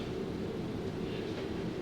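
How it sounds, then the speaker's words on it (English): A model railroad steel train running on a layout, a steady close mechanical hum and rolling rumble without pauses or talk. "It's the steel train."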